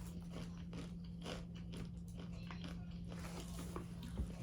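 Dill pickle flavored snack being bitten and chewed up close, a run of soft repeated crunches over a low steady hum, with no clear talk.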